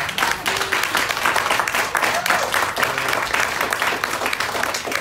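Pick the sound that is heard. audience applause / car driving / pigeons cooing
audience applause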